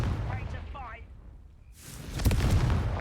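Confringo spell explosion in the Hogwarts Legacy video game: a broad burst of noise that swells in and holds for over a second, with a dull low boom beneath, following quieter chattering game sounds.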